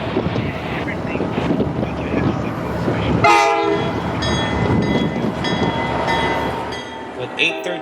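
Tri-Rail GP49 PH-3 locomotive number 817, a rebuilt unit in South Florida, rumbling past with a loud sustained horn blast cutting in midway over steady wind-buffeted rail noise and wheel clatter.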